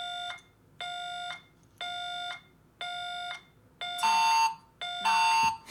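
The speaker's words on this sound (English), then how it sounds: "the alarm gets a lot louder and more intense" A countdown alarm from a Stop the Clock youth group game beeps in regular repeated electronic tones, four even pulses, then two louder, harsher bursts as it grows more intense, with no talk.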